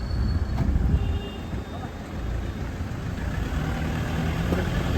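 Heavy road traffic of cars and buses jammed for kilometres on the crowded pilgrimage road to Bhimashankar, a continuous near rumble of idling and moving engines with faint voices in the background.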